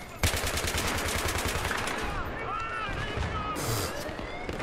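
An M240B machine gun fires sustained rapid bursts in a Battlefield 3 match, loud and close, with a steady rhythmic rattle and other game sounds mixed in.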